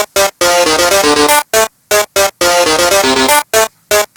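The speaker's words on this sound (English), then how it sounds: "And then do it again, and then make the strings higher." A high synthetic string sound plays a melody from Undertale in choppy short bursts separated by abrupt silences, loud and upfront with no talking.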